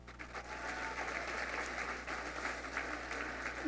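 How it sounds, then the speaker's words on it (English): A ballroom audience gives another round of applause for the district's teachers of the year, a steady, moderately distant clapping that holds evenly throughout. "So another round of applause for them."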